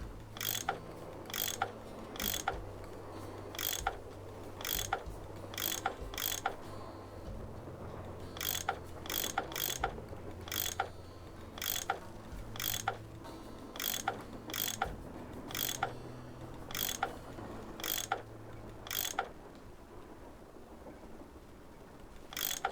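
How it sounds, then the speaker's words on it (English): A tool unscrewing bolts in a Nancy Drew puzzle game gives a steady run of sharp ratcheting clicks, roughly twenty bursts in quick succession over a low background hum. "I bet that's what you use to unscrew these bolts."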